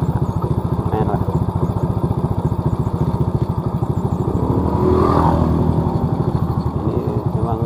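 A motorcycle engine putters with a rapid, steady pulse while riding down a steep village road toward Tangerang. It is loud and close, with a slight swell midway, and someone talks over it.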